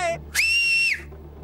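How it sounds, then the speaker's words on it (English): A shrill, sustained cartoon whistle from an animated adventure series sounds once for just over half a second, loud and clear between bits of dialogue, with a short voice heard before it. "I'd recognize that whistle anywhere, Monsieur Fogg."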